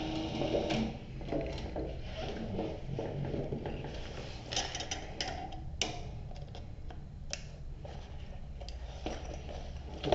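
A sewing machine backstitches at the end of a seam on a slim belt bag. It gives a steady, close mechanical whir with fine rapid ticking throughout, and no voices.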